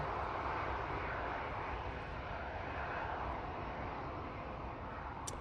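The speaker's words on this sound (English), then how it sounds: "Got an Air Canada going over the top as we speak." An Air Canada airliner passes overhead at Manchester Airport on a gusty day, a broad steady engine roar that holds at an even moderate level throughout with no break.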